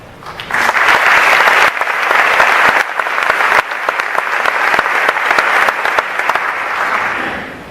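Audience applause at a university commencement ceremony for the Plan II program, loud, dense clapping from a large crowd that swells in and holds steady, with a brief dip midway before continuing.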